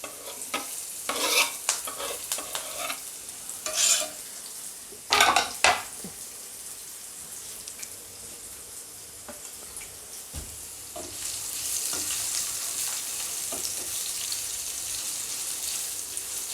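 Finely chopped onion fries in a pan for lasuni methi, with bursts of stirring and spatula scrapes against the metal early on, then a steady sizzle that grows louder toward the end.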